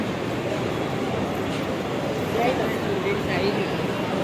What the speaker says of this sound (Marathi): आता विरारला विरारच्या ट्रेनमध्ये बसतो